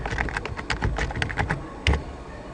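Typing on a computer keyboard while entering text into a fax cover sheet template, a steady run of quick key clicks with one heavier thump near the end, close up and with no talk.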